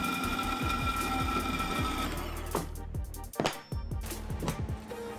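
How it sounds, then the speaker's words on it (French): A flat steel bar is cut to length for a metal and wood stair railing, making a rapid, rhythmic mechanical chatter that stops partway through, followed by scattered clanks and handling knocks nearby. "après avoir coupé à la bonne longueur ce fer plat"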